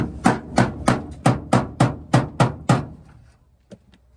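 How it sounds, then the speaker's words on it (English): Nine sharp, evenly spaced blows from an old hammer flattening bent metal ring out close and loud, then stop, followed by one lighter tap. "I'm gonna bend that flat. Smack it flat. Old hammer."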